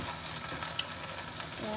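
Potatoes and chorizo sizzle in a frying pan, a soft close crackle with a few louder pops, under a low murmur of room noise.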